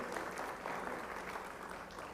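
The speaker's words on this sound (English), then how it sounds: "Both of them deserve commendation and a big round of applause." An audience at a national media conclave gives a steady, even round of applause for the best paper presenters, a dense wash of clapping heard at a distance.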